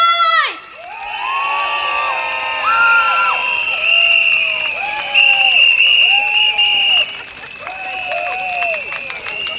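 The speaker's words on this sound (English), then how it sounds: "For those of you with clapper, with cheering stick and whistle, let's make some noise!" Campaign rally crowd in Bukit Panjang cheering and whooping, with clappers, cheering sticks and whistles; shrill whistle tones and rising calls ring out over a dense, loud, continuous roar of voices and clatter.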